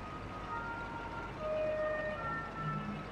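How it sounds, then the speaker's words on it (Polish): Ambulance siren in the video game Farming Simulator 22, heard as faint, distant wailing tones drifting over steady background engine and ambient game noise, with a few low tonal sweeps near the end. "O, karetka jechała. Więc też fajnie. Na sygnale."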